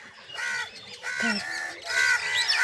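A pair of crows caw loudly nearby in three harsh, drawn-out calls spaced about a second apart.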